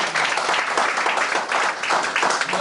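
A church congregation claps warmly to welcome a guest speaker and his wife, a brisk, dense patter of many hands filling the room evenly for a couple of seconds.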